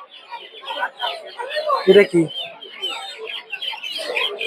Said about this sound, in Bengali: দুইটা কি টাইগার মুরগি